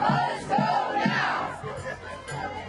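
A crowd roars and shouts in a played video, a dense burst of many voices rising and falling with rhythmic surges, fairly loud throughout.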